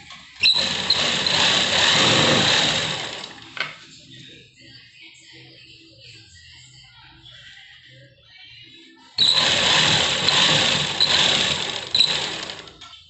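A sewing machine stitching elastic into palazzo pant fabric, two loud bursts of fast whirring stitching separated by a quiet pause with soft handling noises.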